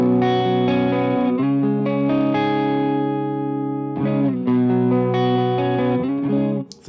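Clean electric guitar played through an AmpliTube Mesa Boogie amp simulation with EL34 or 6L6-style power tubes rings out in sustained, chiming chords with reverb, two strummed phrases alone without talk.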